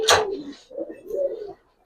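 Giribaz pigeons cooing inside a loft, with a sharp noisy burst at the start followed by soft, low, rolling coos at close range.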